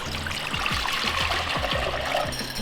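A half-water, half-vinegar brine pours steadily into a container, a close, continuous splashing trickle with rhythmic glugs underneath.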